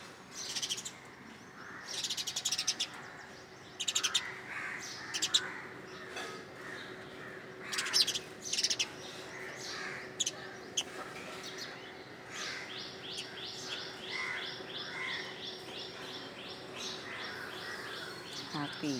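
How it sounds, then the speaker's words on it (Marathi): Small birds chirp repeatedly in the morning, with a few louder bursts of tweets and a steady faint tone underneath, plus denser chirping toward the end. "हा चिवताईंचा आवाज सकाळी येतोय."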